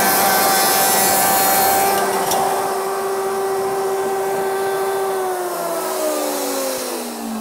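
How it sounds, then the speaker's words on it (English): A router spinning at high speed cuts a tenon in a wooden workpiece, a loud continuous whine with a shifting pitch that drops gradually as the cut progresses, backed by steady broadband noise from an extractor, with no voices. "We're just a little bit high with the router now, we're getting a little splintered edge"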